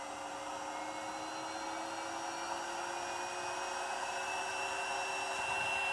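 An air-cooled CNC spindle runs at 24,000 RPM with a steady, loud high-pitched whine and airy rush, continuous and close, with no talking.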